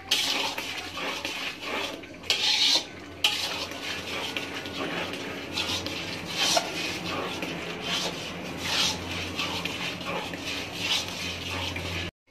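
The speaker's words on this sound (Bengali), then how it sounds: "মশলাটা ভালো করে কষিয়ে নিবেন, যত কষাবেন আচার তত স্বাদ হবে।" Spice paste for a tangy-sweet-spicy olive pickle is stirred and fried in a pan, giving a continuous rough scraping and rubbing with a steady sizzle, loud and close, briefly pausing a couple of times.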